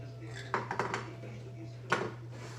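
Fried carrots and potatoes tipped into a cooking pot of Filipino menudo, giving a few sharp clatters of a utensil against the metal pot, then a second scraping knock, over a steady low kitchen hum.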